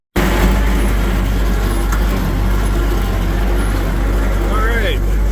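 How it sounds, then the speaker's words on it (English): A 1941 Dodge WC-6 military truck rolls along a bumpy dirt road in second gear, its engine a steady loud rumble heard from the cab with someone talking over it. "All right, moving along in second gear. Got a few bumps. Dirt road"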